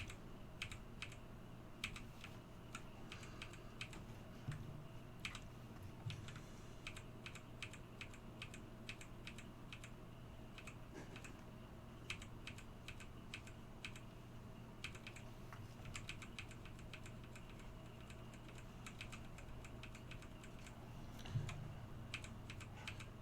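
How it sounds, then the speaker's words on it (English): A computer keyboard clicks in rapid, uneven bursts of keystrokes, close and fairly quiet over a low steady hum, with no talking. "Now y'all get to listen to all these wonderful keyboard clicks."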